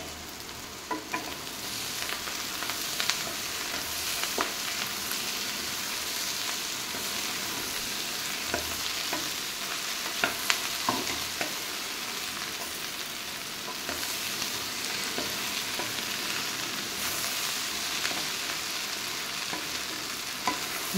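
Okra and onion sizzle steadily in a pan over high heat, a continuous close frying hiss with occasional stirring scrapes and crackles throughout, no talking.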